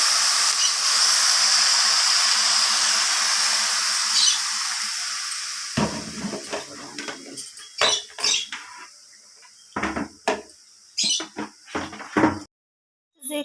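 Water poured into hot bhog khichuri in a pan gives a loud, steady sizzling hiss that fades over several seconds, followed by scattered scrapes and clatters of stirring.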